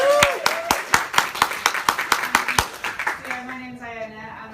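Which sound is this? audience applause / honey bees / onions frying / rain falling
audience applause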